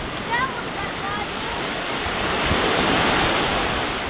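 Ocean surf at Lanikai Beach makes a continuous broad roar of breaking waves, mixed with wind buffeting the microphone and swelling slightly louder toward the end.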